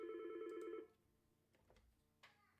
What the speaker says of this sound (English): I should have silenced my phone.